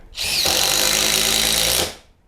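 A close, loud Dewalt DCF850 cordless impact driver whirs steadily for about a second and a half as a screw goes in, then stops abruptly.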